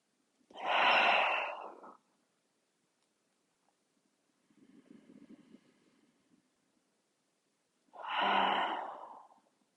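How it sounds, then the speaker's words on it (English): Cleansing breaths during a relaxed exercise session: two loud, close breathy exhales framing a softer nasal inhale, each lasting one to two seconds with silence between. "inhale through your nose and exhale, gentle sigh of your breath away"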